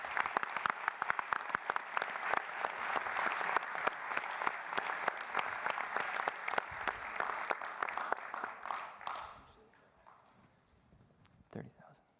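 Audience applause at a business plan competition awards, sustained brisk clapping for several seconds that fades out, followed by a brief pause and a single faint thump.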